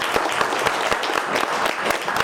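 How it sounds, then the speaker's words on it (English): An audience at a political meeting gives the speakers a round of applause, a dense patter of many hands with distinct sharper claps standing out, fairly near and steady throughout. "let's give them all a nice round of applause."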